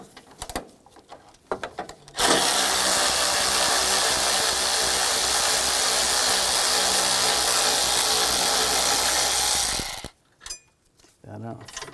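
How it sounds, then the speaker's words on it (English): A 10mm socket wrench backs a bolt and nut off a bracket on a 2010-2017 Chevrolet Equinox 3.6L, a steady, loud mechanical ratcheting and grinding that runs for about eight seconds between quieter handling noises. "use a 10mm socket. We're going to take this bolt out and this nut off."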